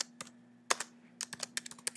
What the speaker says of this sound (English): typing something to them.